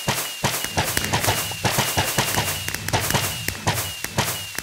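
Crossbows loaded with fireworks fire in rapid succession from a turret in Minecraft, a dense, loud run of sharp pops and whooshing blasts with no pause.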